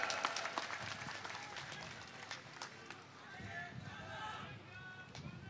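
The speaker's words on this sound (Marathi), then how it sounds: "मी तुम्हाला जोरदार टाळ्या" Audience applause breaks out at a Maharashtra political gathering, a broad, steady wash of clapping and crowd noise that continues through the whole stretch, with a few sharper claps near the start.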